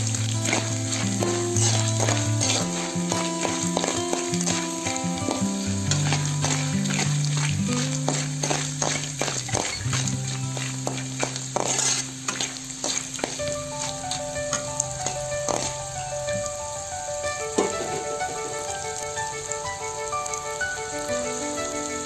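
Asafoetida and other tempering spices for pulihora sizzle steadily in hot oil in a pan, a close, continuous crackling fry that softens gradually over time, with occasional stirring clinks.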